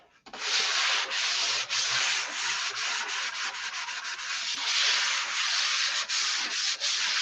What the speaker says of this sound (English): If you listen to the paper, I'll tell you when you're done sanding.